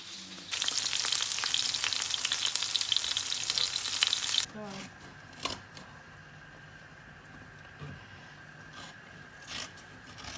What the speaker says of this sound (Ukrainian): А зараз ми кинули в сковороду перець.